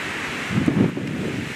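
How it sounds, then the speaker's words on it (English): Blizzard wind roaring across open prairie in a steady, loud rush with gusty swells and buffeting against the microphone. "that cool damp turned into a full-blown blizzard here on the Pungo Prairie"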